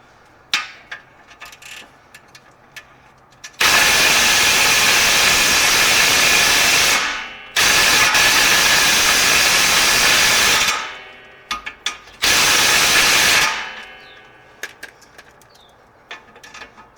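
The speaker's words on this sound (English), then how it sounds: "I'm going to try it with the impact. If it's not strong enough, then I'll go ahead and use my other ratchet" An impact wrench hammers in three long, loud bursts of several seconds each while loosening torque arm bolts on a 1982-92 Camaro, with brief quiet gaps and small clanks between runs.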